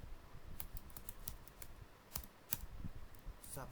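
Quiet, close typing on a computer keyboard while writing Python code: irregular bursts of light key clicks with short pauses between them.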